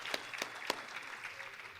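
Applause from a church congregation for the media tech team at the back of the room: a few sharp claps rise over a steady, moderately distant patter of hands lasting under two seconds.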